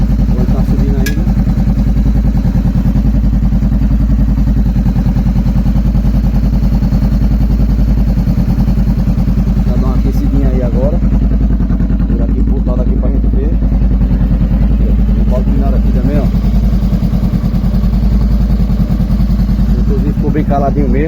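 Honda CB500F 2014 motorcycle engine idling steadily while warming up, a constant low throbbing drone with light mechanical clatter running throughout, close by, with no talk over it.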